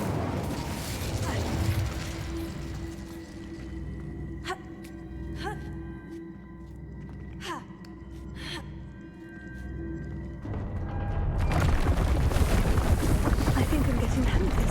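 Incendio fire spell cast in Hogwarts Legacy on PS5: a few sharp crackling snaps, then a loud, sustained roaring whoosh of flame that fills the last few seconds over steady game ambience.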